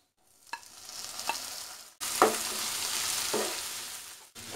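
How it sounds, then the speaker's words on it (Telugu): Tomatoes are added to onions frying in a pan and stirred, giving a steady sizzle that rises sharply when they go in, with a few spoon scrapes and clinks and a brief pause near the end. "దీనిలోకి టొమాటోలు యాడ్ చేస్తాను."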